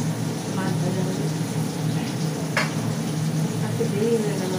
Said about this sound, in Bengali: এই যে মাছ ছেড়েছি কড়াতে, মাছ ভাজা হবে।